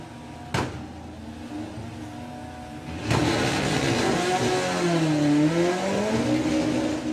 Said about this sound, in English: He's going to get on the trans brake, build up the boost, bumps the car in.